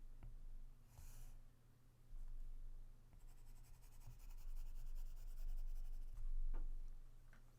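A pen scratches across paper as a histogram bar is drawn, giving faint, close strokes and ticks over a low steady hum, with no talking.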